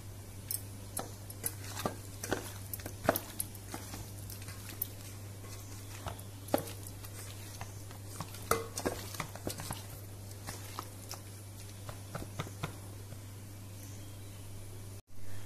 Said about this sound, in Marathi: आता हे सगळे मिक्स करूया।